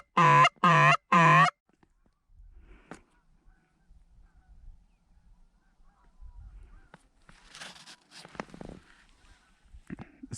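A flock of geese honks in the distance over the open fields of a North Dakota goose hunt, faint and scattered calls following three loud bursts at the start, with quiet rustling and breathing in between.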